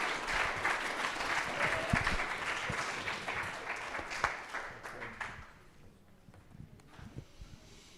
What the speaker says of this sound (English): please give this man a round of applause